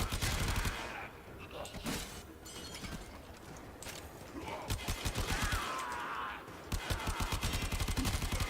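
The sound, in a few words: Pantero assault rifle gunfire in a video game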